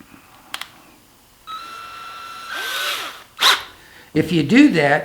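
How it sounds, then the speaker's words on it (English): A power drill fitted with a 1/16 inch bit bores holes through a kayak frame, giving short whirring runs separated by pauses, close and fairly loud, followed by a brief voice. "take your 1/16 inch bit, and everywhere that you have a hole, you drill, and you drill a hole all the way through"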